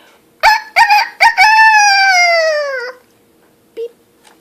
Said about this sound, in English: took a deep breath, threw back his head and crowed,